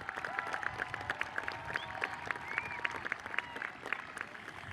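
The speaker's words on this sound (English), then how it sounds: "round of applause for our graduating class" Audience at the Wilcox High School class of 2023 graduation ceremony applauding on a field, a steady patter of clapping with scattered louder claps and faint voices mixed in.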